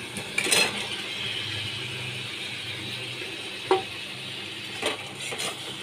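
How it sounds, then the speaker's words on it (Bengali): Fried eggs and potatoes are stir-fried in a spice masala, giving a steady low sizzle broken by a few sharp scraping clinks of a spatula against the pan, with no one talking. "ভেজে রাখা ডিম আর আলু দিয়েও আমি 4-5 মিনিট কষিয়ে নেব।"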